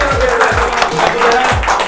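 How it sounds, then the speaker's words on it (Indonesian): Applause from the people present at the end of an informal interview session, a steady wash of clapping that runs throughout under low background music. "Terima kasih tepuk tangan semua di sini."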